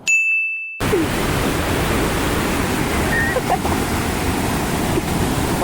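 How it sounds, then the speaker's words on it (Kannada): Steady broadband rush of water at Hosur Falls in Karnataka, a continuous loud roar that fills the whole clip after a brief tone at the start. "ಮಸ್ತ್ ಐತೆ ಮಾತ್ರ ಫಾಲ್ಸ್."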